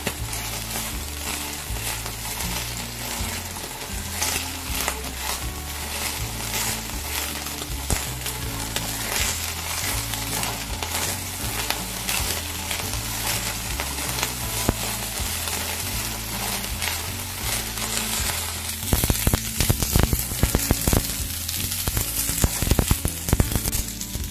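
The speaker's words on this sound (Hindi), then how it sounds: "इसमें फूल को भी मिला लिया है और इसको थोड़ा सा हम सौते करेंगे 2-3 मिनट के लिए हाई फ्लेम पे" Cauliflower florets sauté on high flame for a restaurant-style spicy veg Kolhapuri, giving a continuous dense sizzle with scattered stirring clatter that grows busier near the end. Steady background music plays under it and there are no voices.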